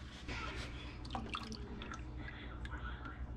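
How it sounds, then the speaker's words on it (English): Milk is poured into a cup while baking a cake, giving faint, soft trickling and dripping close by, with quiet voices talking over it. "We're gonna fill the cup up with milk."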